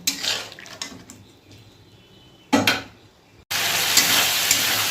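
A spice paste for a small-fish curry stir-fries over very low heat, with a few grains of sugar added. The sizzle is soft and uneven with brief scraping bursts, then becomes a loud, steady hiss toward the end.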